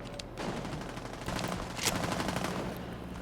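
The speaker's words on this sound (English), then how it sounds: "We can hear automatics." Automatic rifle fire in the Vietnam War shooter Rising Storm 2: Vietnam, sustained rapid bursts with a dense rattling texture that fill the whole stretch, moderately distant and loud with no talking.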